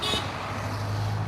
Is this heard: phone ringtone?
no